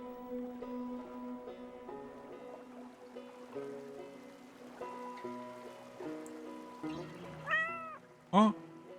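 Over soft tonal background music in the fishing game Cast n Chill, a cat gives a couple of short, clear meows near the end, the last one louder and closer.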